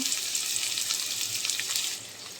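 About a cup of onion hits three to four tablespoons of hot oil and fries for a Bengali duck rezala, giving a steady, close, hissing sizzle that runs unbroken and eases slightly toward the end.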